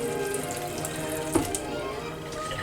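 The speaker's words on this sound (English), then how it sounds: "You take one, you wash it in water, and it goes straight from there to the flour." Tap water runs steadily into a sink while thin-cut chicken breast is rinsed under it, a continuous close splashing stream with a brief clatter midway and no talk.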